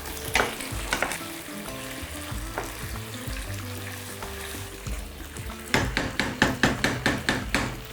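Beef sizzles and fries in a pan with a continuous crackle, then a quick run of sharp, rhythmic knocks and stirring clatters near the end.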